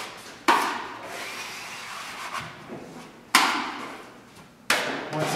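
A taping knife scrapes and wipes drywall mud in three firm strokes, each starting with a sharp scrape that fades into a soft smearing rub, close and alone.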